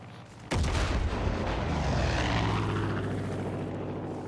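A propeller aeroplane in the shooter video game Far Cry 5 roars in suddenly and loudly overhead, then its engine drone lingers and slowly fades, with a boom at its onset.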